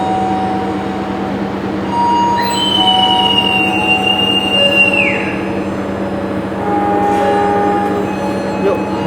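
The Airlangga passenger train pulls out of Semarang Poncol station with a loud, steady rumble, a drawn-out metallic wheel squeal midway and a brief horn-like tone near the end.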